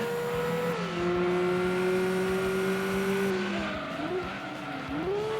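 A Toyota Celica engine in Gran Turismo 2 holds a loud, steady high-revving drone, then its pitch dips and climbs again through gear changes and throttle shifts.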